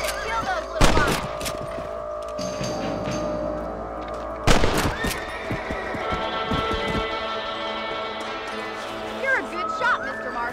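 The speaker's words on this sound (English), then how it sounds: "You're a good shot, Mr. Marston. That rabbits didn't stand a chance." Gunshots from hunting rabbits in the Western video game Red Dead Redemption: a couple of loud sharp blasts over a busy game soundscape with background effects and speech.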